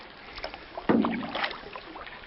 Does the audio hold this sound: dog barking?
no